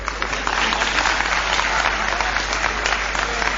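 Steady, dense applause from an audience at a poetry recitation, continuous and fairly loud throughout.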